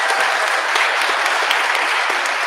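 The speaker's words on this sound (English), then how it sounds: "can we just give them one more round of applause?" Audience applause at a startup pitch night, a steady dense round of clapping that holds evenly throughout without any talk.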